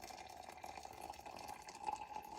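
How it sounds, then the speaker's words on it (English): Water poured from a kettle into an AeroPress coffee maker, a faint, steady trickling stream lasting a couple of seconds, close by and with no voices. "I will just add water"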